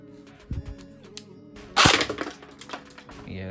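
An airsoft gun with a test gearbox fires during FPS testing, giving a sharp loud crack with BBs bouncing back, amid scattered clicks and handling noises.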